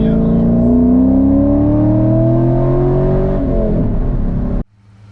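A 2017+ Nissan Titan Pro-4X pickup with the 5.6L engine idles steadily after several minutes of remote-start warm-up on a 45-degree December morning, a loud, close, even drone that cuts off abruptly near the end.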